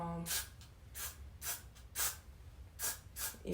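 Repeated short bursts of hairspray aerosol hiss, close by, at an uneven rhythm over a low background hum.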